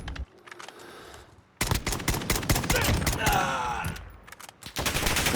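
Rapid rifle shots from an SKS in Call of Duty Modern Warfare, a dense volley of sharp cracks with clattering mechanical sounds, preceded by a few quieter single shots and followed by a brief pause and more fire, with some talk mixed in.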